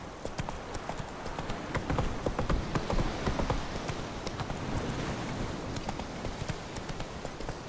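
Horse hooves galloping in The Witcher 3 video game, a fast, steady clip-clop rhythm at moderate volume over a busy game soundscape of ambient noise.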